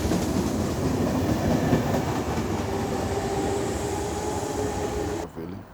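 A train rolls through a station with a steady, continuous rumble and rail clatter close by, holding loud and even for about five seconds before cutting off abruptly.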